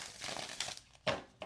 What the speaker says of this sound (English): this deck is really easy to shuffle for me